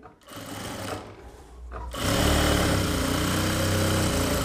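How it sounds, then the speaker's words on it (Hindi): A sewing machine stitches along the edge of a blouse piece, starting with a softer run and a short pause, then whirring loudly and steadily at speed. "इस पर एक किनार वाली सिलाई लगाना है"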